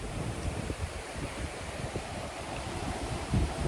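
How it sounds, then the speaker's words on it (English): Steady wind roars and gusts against the microphone, a continuous rushing noise with low rumbles and no voices. "All of a sudden got windy right here."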